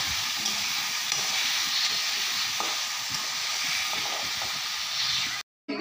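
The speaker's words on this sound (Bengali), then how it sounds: "এইদিকে আলু ভাজাবো একদম।" Potatoes frying in a hot pan while a home cook prepares a country-style meal, giving a steady broadband hiss and sizzle that runs unbroken for several seconds with no talk and then cuts off briefly at the end.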